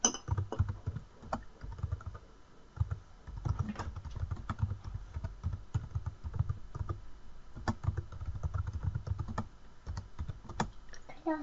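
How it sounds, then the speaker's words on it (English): Close, steady typing on a computer keyboard while entering a new title for a histogram, a quick rhythmic patter of keystrokes with brief pauses and no talking. "So I type in a new title here."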